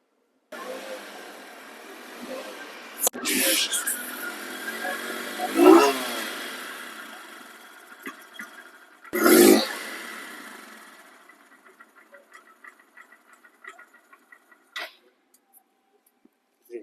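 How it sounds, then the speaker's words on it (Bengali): Two Honda motorcycles, an SP Shine and a Livo, running with a steady smooth idle. Two short louder revs stand out early on, then the engines fade to faint intermittent bursts with no talk. "দুইটি বাইকের সাউন্ড একদম স্মুথ"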